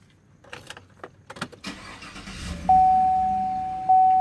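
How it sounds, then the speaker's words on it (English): A 2016 Chevrolet engine cranks and starts after a few mechanical clicks, followed by a steady electronic dashboard chime that rings out loudly and close, with no talking. "and now we're gonna start the vehicle."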